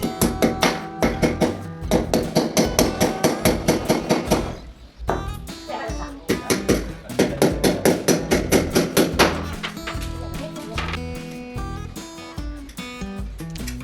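Rapid, steady hammer blows ring out close by as nails are driven into ceiling battens, in quick rhythmic bursts, pausing briefly before resuming, with a voice speaking over the work.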